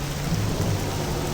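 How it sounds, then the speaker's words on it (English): Steady rain pours with low rolling thunder in a Star Wars Jedi Knight video game, arriving as a continuous dense wash with deep rumbling underneath and no voices. "This rain's like acid. Find some cover, fast."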